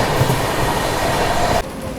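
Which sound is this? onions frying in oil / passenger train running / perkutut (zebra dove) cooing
passenger train running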